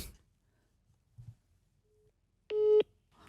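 Telephone call being placed on a radio show, with faint clicks and then a single short electronic tone, sharp and close, standing alone in near silence.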